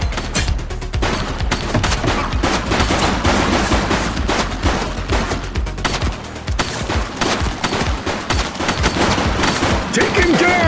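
Nonstop rapid gunfire from a police shootout in the game The Precinct, with dense bursts of automatic shots and single cracks, loud and close, and brief shouting voices mixed in.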